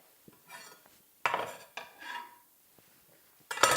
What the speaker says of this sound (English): Whisk it a little bit, get it covered in the sauce.